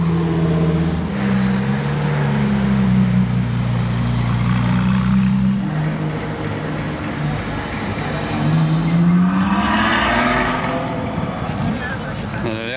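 A sports car with a straight-through exhaust revs and drives past on a street in Monaco, its loud engine note rising and falling, while someone talks over it.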